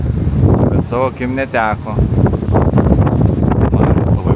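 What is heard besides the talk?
strong wind on the Neringa coast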